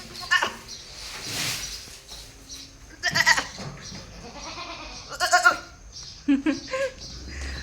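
A goat on a village farm at evening feeding time bleats several times in short, close, loud bursts, with quieter farmyard sounds and some voices in between.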